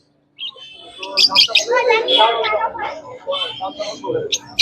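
Caged birds, including budgerigars, chirp and twitter busily at a bustling pet market, a dense close chatter of rapid high tweets with a voice talking underneath.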